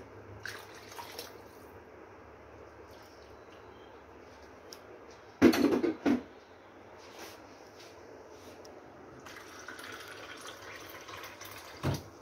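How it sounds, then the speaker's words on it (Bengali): Hot water is poured into a measuring cup (four cups for chicken pulao, after two cups of rice), heard as a short splashing burst and later a steady, soft pouring rush in an otherwise quiet kitchen. "আমি এই কাপটায় এখন মেপে গরম জল 4 কাপ দিয়ে দেব।"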